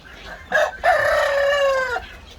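A farmyard rooster from a backyard coop gives one loud, close crow lasting over a second, preceded by a short clucking note.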